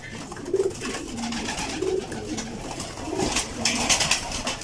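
Pigeons coo repeatedly in low, throaty calls over a steady noisy background, several birds close by.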